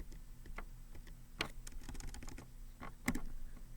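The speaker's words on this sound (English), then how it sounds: "I'm going to type this rule again" Keystrokes clatter on a computer keyboard while a rule is typed in for a Snort lab, quick uneven taps with a couple of louder strokes, close and clear with no talking.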